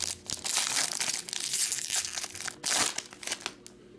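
A 2022 Topps Series 1 baseball card pack is torn open up close, with bursts of crinkling foil and ripping wrapper in a quiet room.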